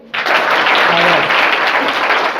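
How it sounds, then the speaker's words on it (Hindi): Students at a workshop break into loud, dense applause that starts abruptly and holds steady, many hands clapping together close by, with faint voices mixed in. "इस पर एक बार ताली बजाइए"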